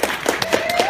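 Audience at a Philly convention panel with Greg Cipes breaking into applause, a quick burst of several sharp claps spaced at a brisk rhythm, close and fairly loud.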